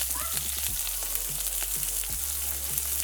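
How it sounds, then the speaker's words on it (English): Curry leaves, hot pepper and onions sauté in hot oil for a curried chicken neck dish, a steady close, dense sizzle with faint stirring scrapes underneath. "I have some curry leaves, I have hot pepper, and I have onions that we're going to saute until it has a really nice dark brown color"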